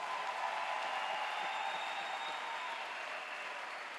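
A church congregation applauds together, a steady wash of clapping from many hands at moderate distance that holds without a break.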